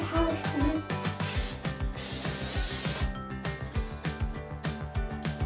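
Hair product sprayed from a shaken bottle: two bursts of sharp hissing spray, a short one then a longer one, close and loud, over steady background music.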